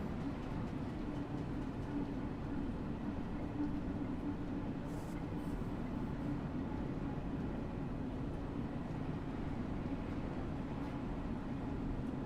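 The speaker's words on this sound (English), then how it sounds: "that, I think, is the train that was in front of us, with the passengers still on board" A passenger train in the video game Train Sim World 2 rolls past with its passengers still aboard, giving a steady, loud, low rumble that holds evenly throughout with no talking.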